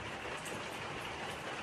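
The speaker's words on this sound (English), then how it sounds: "Listen to that rain." Rain falls steadily on the waterproof roof of a shed with no floor beside an 1840s cottage on the Isle of Skye, a dense, even hiss of drops with no break and no voices.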